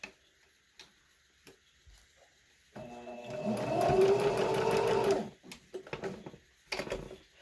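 A sewing machine stitches a fabric hospital face mask in a steady close whirring run of about two and a half seconds, framed by quiet handling clicks and taps before and after.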